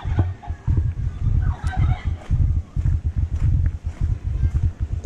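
Chickens at a mini zoo in a resort in Nongsa, Batam, clucking and calling in busy overlapping bursts, close and steady across the whole stretch with a few higher cries on top.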